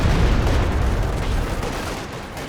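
Battlefield gunfire rattles in the strategy video game Company of Heroes 2, with machine gun fire mixed with booming impacts in a loud, dense, continuous barrage. It thins slightly toward the end.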